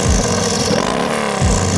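A lowrider car engine fitted with a Trask Turbo kit and a Redshift 468 cam idling close by, a loud steady deep rumble with two brief throttle blips swelling near the start and end.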